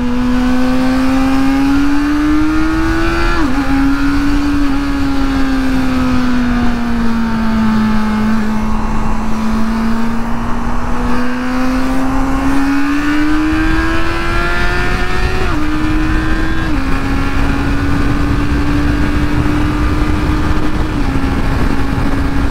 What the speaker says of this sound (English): I can rip through some gears for you here, and you can see how accelerating is with the e-clutch enabled.